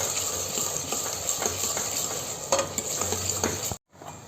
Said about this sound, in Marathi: चांगला आपण तेलात परतून घ्यायचा पहिले कांदा मस्त।